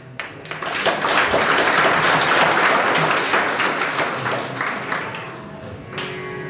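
An audience at a devotional sermon claps together, a broad burst of applause that swells quickly, holds for several seconds, then thins out and fades with scattered claps at the end.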